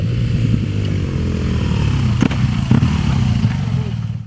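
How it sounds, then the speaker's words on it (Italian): A motorcycle engine drones with a rough, throbbing rumble, growing slightly louder as it approaches at full speed on a mountain route in the Monti Sibillini, with a couple of sharp clacks partway through. "Ora abbiamo anche i cavalli e Gianni è sparito laggiù in moto e adesso sta arrivando a tutta."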